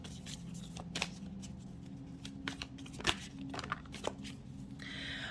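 Oracle cards being shuffled by hand: soft, irregular papery riffles and taps with a few sharper snaps, close by and quiet, with no talking.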